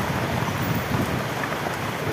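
Steady rain falls over a city neighbourhood in Cali, Colombia, a dense, even hiss of drops that fills the whole stretch without a break.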